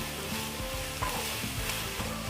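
Sliced onions and slit green chilies fry in hot oil in a pan for pork vindaloo, giving a steady close sizzle with a few scraping stirs, and no one speaks.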